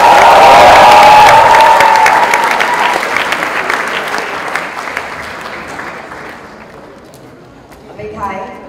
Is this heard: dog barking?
no